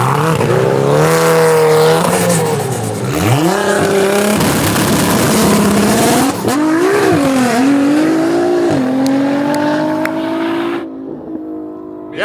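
A 1,200 AWHP all-wheel-drive Nissan GT-R and Travis Pastrana's Gymkhana 2020 Subaru STI in a drag race, loud engines climbing through gears with sharp shifts, roaring close before fading at the end.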